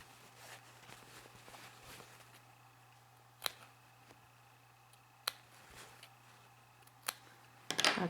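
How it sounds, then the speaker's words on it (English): Scissors snip a few times into the curved edge of mask fabric near the stitching, sparse crisp clicks spaced apart and close by over a quiet background, with a rustle of handling at the end. "just do a few snips into the edge of the fabric to release that curve"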